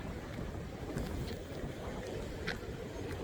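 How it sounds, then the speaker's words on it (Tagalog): Snowstorm wind in North Dakota roars as a steady, faint, broadband rush with occasional gusts. "Snowstorm ngayon dito sa North Dakota"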